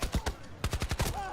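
Rapid gunfire in the shooter Battlefield 2042: two quick shots, a short pause, then a fast run of five or six close, punchy rounds, ending in a softer lingering tail.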